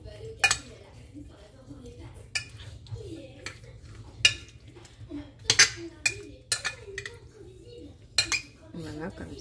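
Salted sliced potatoes are mixed in a gratin dish, with scattered metal utensil clinks and scrapes against the dish in an irregular rhythm, close by.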